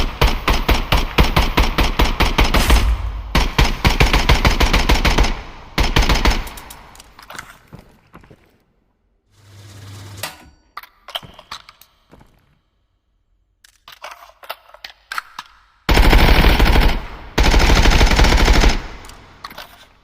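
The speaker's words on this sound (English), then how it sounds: "It feels good to full auto a gun." Full-auto 5.56x45 rifle fire in the video game Contractors Showdown: loud, rapid bursts of gunfire with sharp cracks, one long sustained burst at the start, shorter bursts midway, then two more heavy bursts near the end.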